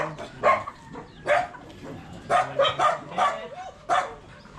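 A dog barks in about seven sharp, separate bursts at irregular intervals, fairly close and loud against a quiet background.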